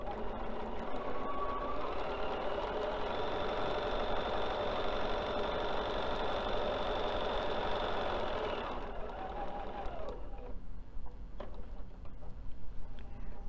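A sewing machine runs continuously, stitching around the edge of a beveled placemat for about nine seconds, then stops, leaving quiet handling noises and small clicks.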